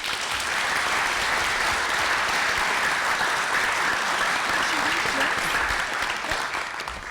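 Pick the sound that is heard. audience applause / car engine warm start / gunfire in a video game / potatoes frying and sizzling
audience applause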